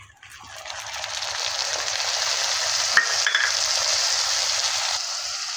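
Onions frying in hot oil while being cooked for a snail curry, a steady close sizzle throughout with brief stirring scrapes, no talking.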